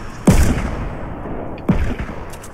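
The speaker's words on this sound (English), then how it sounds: "Are you firing those cannon or?" Cannon in a video game fire two loud booming shots about a second and a half apart, each with a sharp crack and a rumbling tail that fades out.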